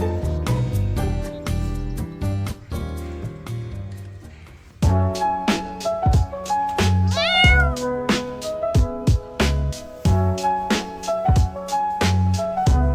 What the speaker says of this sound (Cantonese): 睇嚟肥貓今日邊度都唔去